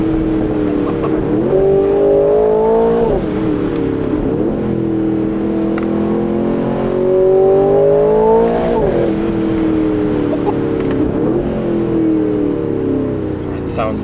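An Aston Martin Vantage Roadster on winter tires pulling hard out of a tight corner at full throttle in first gear, engine note climbing loud and near with a few sharp gearshift-like dips, while people speak over the roar.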